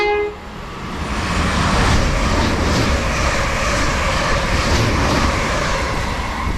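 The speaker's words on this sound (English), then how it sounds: "the 325's Royal Mail train is coming back." Royal Mail Class 325 electric train passing at speed, a loud broadband rumble and rushing roar sustained throughout, close to the listener.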